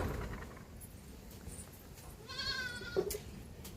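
A goat bleats once around mid-clip at a village farm, a short wavering call standing out over quiet outdoor background.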